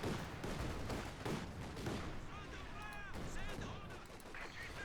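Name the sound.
gunfire from a T-70 tank in Company of Heroes 2 video game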